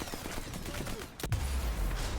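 Gunfire in the video game Sniper Elite 4, with a muffled rattle of shots and one sharp crack near the middle over a steady background bed.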